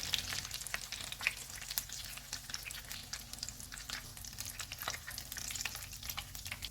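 Potato and egg kababs fry in oil with a soft, steady sizzle and faint crackles, quiet and continuous with no talking.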